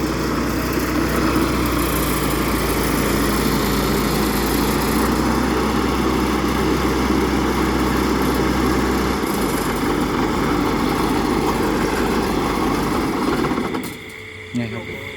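A combine harvester engine drones loudly and steadily up close at night, a continuous mechanical roar that runs for about fourteen seconds before cutting off abruptly.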